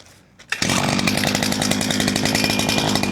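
The small two-stroke engine of a Cifarelli SC605 olive harvester catches after a brief quiet start, then runs steadily and loudly at a high, buzzing idle, close by.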